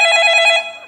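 Telephone bell ringing as a stage comedy sound effect, a loud, bright electric ring heard alone for a short burst that then fades.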